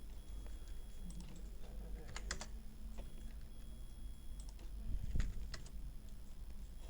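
Short bursts of keystrokes on a computer keyboard as a value is entered, light clicky taps in small clusters separated by pauses, close and fairly quiet against a low hum.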